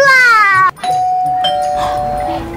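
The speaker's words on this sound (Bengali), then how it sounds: "কলিং বেল বাজছে।" A doorbell chimes clearly, a single ringing tone held for about two seconds, preceded by a brief rising electronic warble.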